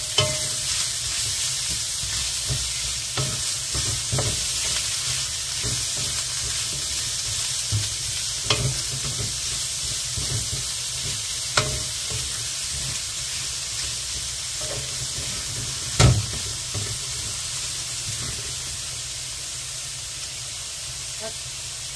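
Onions frying in rendered bagnet pork fat for bihon guisado, a loud continuous sizzle and hiss with occasional utensil scrapes and knocks as they are stirred, no talk.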